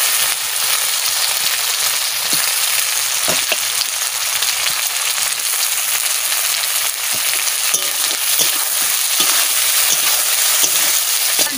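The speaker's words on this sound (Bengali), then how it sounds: "আমি মাগুর মাছগুলো দিয়ে দিচ্ছি।" Magur catfish frying in hot oil, a loud, steady, dense crackling sizzle that holds without a break, with a few faint knocks behind it.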